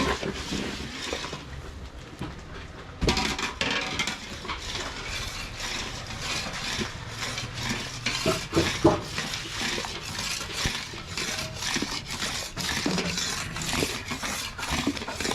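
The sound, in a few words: stirring milk in a pan to make khoya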